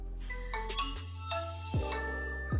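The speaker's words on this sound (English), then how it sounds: "here's a quick snippet from my first boot video" Startup chime of a Nokia 6 phone on first boot: a short, clean electronic melody of stepped synth tones with deep bass notes, played alone and fairly quiet.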